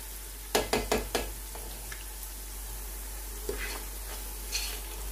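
Onions and spices fry in a pan for chicken yakhni pulao, with a steady, soft sizzle under a few quick metallic stirring clinks near the start and occasional light scrapes later.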